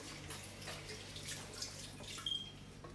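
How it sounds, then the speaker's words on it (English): Tap water runs steadily while hands are rinsed under it at a kitchen sink, a soft continuous splashing with a few brief drips, close and unaccompanied by talk. "Let me rinse my hands off."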